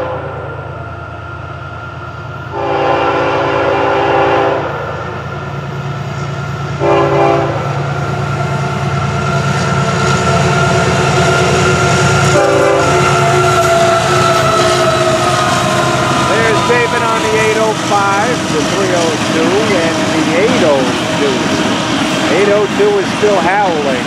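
FEC 105, a freight train with auto racks on the head end, rumbles past loud and close, sounding its horn in several long blasts over the rolling wheel and wagon noise.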